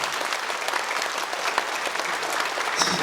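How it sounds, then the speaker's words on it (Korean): Audience applause fills a church hall during a pastor's testimony talk, dense and steady clapping from a large crowd with no one speaking over it. "그럼 박수 한번 쳐줍시다."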